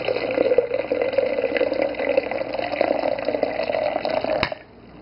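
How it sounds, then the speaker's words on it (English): Water pours steadily into an Osterizer blender jar for about four and a half seconds, a continuous close splashing fill that stops abruptly, leaving faint room tone. "I'm going to put water in there."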